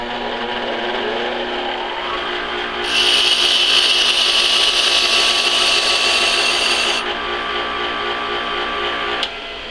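Bench grinder spinning as a tungsten TIG electrode is sharpened, a motor hum that swells into a loud bright grinding hiss for several seconds of contact, then drops back to the running motor.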